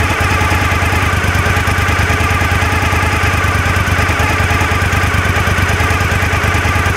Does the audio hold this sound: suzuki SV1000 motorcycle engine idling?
yes